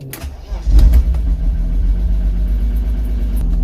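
A car engine idles steadily after starting, a low continuous rumble close by, with a brief swell early on before settling into an even hum.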